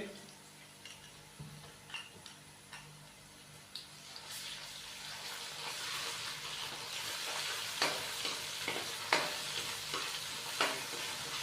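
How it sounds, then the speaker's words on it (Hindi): Onions frying in a pan with ginger garlic paste and green chili paste, a steady sizzle punctuated by repeated scrapes and clinks of stirring, close and fairly quiet with no talk. "अच्छे से इसको मिक्स करेंगे और थोड़ा सा फ्राई होने के लिए छोड़ देंगे"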